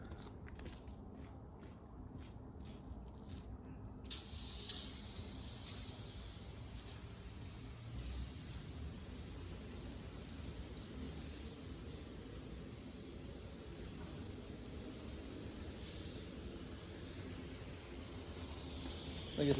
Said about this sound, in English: let's go hose it up